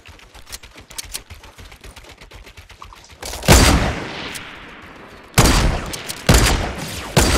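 Loud Fortnite gunfire: rapid bursts of shots crack out in several volleys, with quieter clicking and tapping beforehand and almost no talk.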